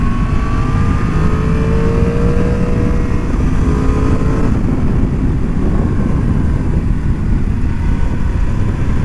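A 2025 Yamaha MT10 motorcycle engine drones loud and steady, with a quickshifter downshift shifting the pitch partway through, no speech over it.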